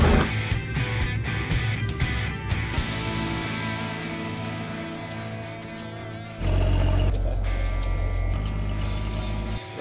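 A big 4WD truck engine starts up in a forest, a deep rumbling idle swelling suddenly louder partway through and holding steady and close to the end.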